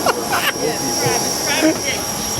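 A small private jet's engines give off a steady, close whine and roar around the cabin while people talk loudly over it.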